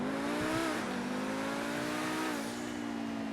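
A Lamborghini Huracán EVO Spyder in GTA 5 revving hard, its engine note climbing and shifting pitch as it accelerates, loud and close with no talk.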